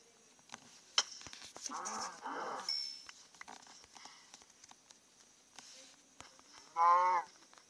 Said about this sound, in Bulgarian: Ой, кравичка.